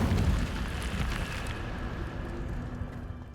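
Incendio fire spell cast in Hogwarts Legacy, a roaring whoosh of flame that bursts loudly at the start and then tails off into a fading crackling rumble.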